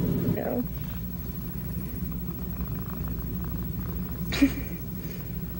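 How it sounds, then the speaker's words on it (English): Several cats purring in a cat cafe where they roam freely, a steady low continuous purr throughout with a brief soft sound near the end. "the cats change in and out and roam all over"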